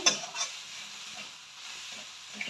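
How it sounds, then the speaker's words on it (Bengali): Grated coconut stirred in a hot pan, a soft continuous sizzle and hiss with a few faint scraping touches of the spoon, quiet and close. "কড়াইটা গরম হয়ে গেছে এবার আমি নারকেল কোড়াগুলো এর মধ্যে দিয়ে দেব দিয়ে একটু নাড়াবো"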